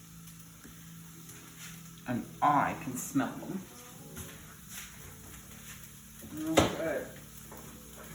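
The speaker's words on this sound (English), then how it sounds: "You can hear the onions sizzling away." Onions fry in a pan with a faint, steady sizzle beneath a woman's speech, joined by occasional clatter and scraping of a utensil nearby.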